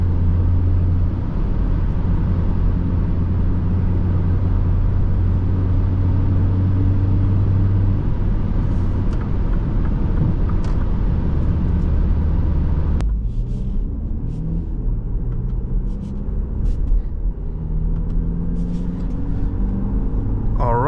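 A 2025 MINI Countryman S ALL4 drives at steady speed, its engine and road rumble a constant low drone throughout, with a shift in tone midway, while the driver talks over it.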